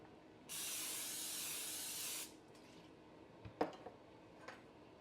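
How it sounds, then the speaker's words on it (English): Olive oil is sprayed onto roast beef in one steady burst of hiss lasting nearly two seconds. A few faint clicks and taps follow in a quiet kitchen. "we're supposed to spray with olive oil first"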